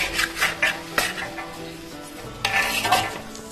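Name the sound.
roasting wheat flour (atta) in a pan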